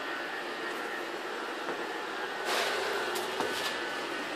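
A universal motor runs steadily with a continuous whining, whooshing hum, close and constant with slight surges in the latter half and no talking.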